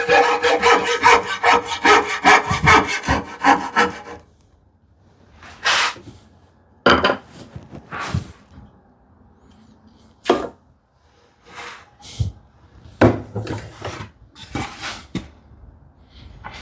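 A hand saw with a disposable blade cuts through wood in quick, close, rasping strokes for several seconds, then stops, followed by scattered separate scrapes and knocks from the work.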